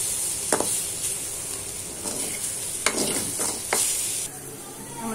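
Brinjal fry with ground masala sizzles steadily in a pan, with a few sharp scrapes as a spoon stirs the pieces, the hiss continuous underneath.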